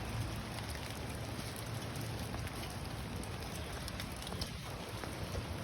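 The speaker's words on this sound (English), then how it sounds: "All right, so it's raining out here." Steady rain falls at a construction site, a dense, even hiss of drops on surfaces that runs without a break for several seconds, with no voices.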